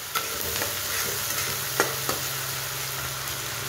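Onions sizzle and fry in a pan while a utensil stirs them, giving a steady crackling hiss with occasional scraping clicks, close by and alone.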